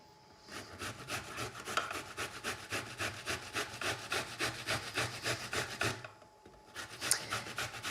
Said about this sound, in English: So grate until you get right to that core.